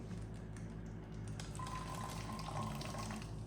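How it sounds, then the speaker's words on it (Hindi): Lukewarm water pours steadily into a coffee jar already holding coffee and sugar, a continuous close trickle and splash with a faint rising tone as the jar fills. "नीम गर्म पानी ऐड कर देंगे इसमें"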